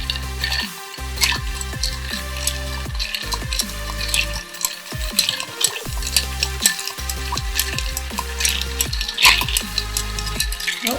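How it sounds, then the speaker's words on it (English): A spoon stirs a cocktail over ice in a glass to chill it, making close, continuous rattling and clinking as the cubes swirl, with brief pauses between bursts. "Stir it up until it chills."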